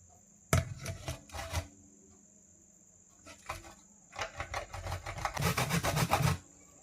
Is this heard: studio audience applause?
no